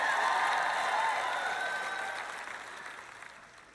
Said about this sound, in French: Maintenant, vous applaudissez quand je dis que Jésus revient.